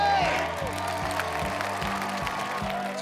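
A studio audience applauds contractors Andy and Margaret Stahl of Hearthstone Contracting at a home makeover reveal. Dense, steady clapping and crowd noise fill the whole stretch over a low, pulsing music bed.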